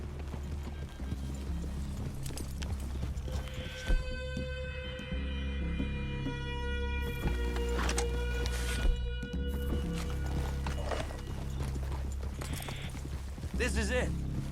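Horse hooves clip-clopping at a walk in Red Dead Redemption 2, beneath music and background hum, with occasional voices talking over it.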